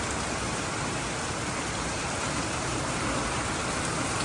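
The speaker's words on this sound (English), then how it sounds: "All the rain was coming in totally sideways, hitting the wall." Heavy storm rain driven sideways against a wall, a dense, constant hiss of downpour that stays loud and unbroken throughout, with no voices.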